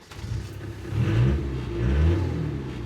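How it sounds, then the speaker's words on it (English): A Land Rover 300 TDI diesel engine cranks and catches, then revs up twice in rising, swelling bursts, close by and fairly loud, with no talking over it. "the key in ignition, the car will burst into life"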